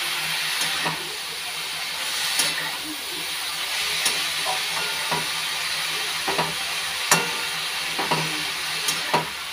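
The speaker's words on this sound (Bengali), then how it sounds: "এখন এটা ভাজা ভাজা হবে" Cooked rice seasoned with salt and turmeric, added dry without water, fries in a pan with a steady hiss of steam and sizzle, broken by scattered sharp scrapes and clicks of stirring.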